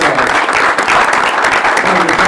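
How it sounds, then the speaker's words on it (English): Audience at a boxing conference gives a round of applause, steady close clapping from many hands filling the whole brief stretch. "Give him a big round of applause."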